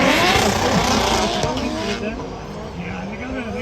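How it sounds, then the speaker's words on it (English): Drift cars at Mondello Park race track in Ireland, including two S-chassis cars, roar past loudly with tire squeal, engine revving and shifting pitch as they slide through the course. "As that lead car now drives away and leaves the two S chassis behind."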